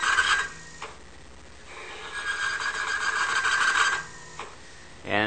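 A Falex lubricant tester's motor straining and locking up under load, giving a loud grinding, rasping screech that rises and falls in harsh, sustained waves, close up with no speech.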